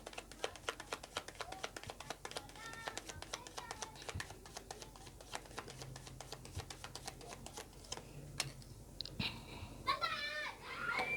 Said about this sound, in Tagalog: So, pasensya na po sa ingay ha kasi may naglalaro na mga bata.